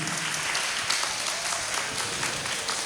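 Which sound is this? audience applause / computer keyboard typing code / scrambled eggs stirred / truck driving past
audience applause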